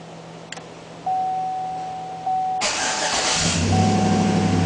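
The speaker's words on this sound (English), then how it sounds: "we can trigger remote starting of the vehicle." A vehicle fitted with a Fortin stand-alone remote start system with a REVO START RF antenna kit starts remotely: a steady electronic tone, a sudden loud crank, then the engine settling into a close, even idle.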